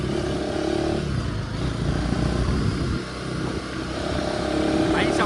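KTM ADV 350 adventure motorcycle on a test ride, a steady droning engine note with wind rush, close and continuous, the revs easing briefly mid-run before building again.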